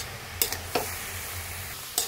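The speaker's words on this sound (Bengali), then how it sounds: "এবার আমি এটা পুরোটা মিক্সড করে নেব।" Blended ground spice mix is stirred into cauliflower frying in a pan, with faint soft sizzling and a few sharp scrapes and clinks of the spoon against the pan.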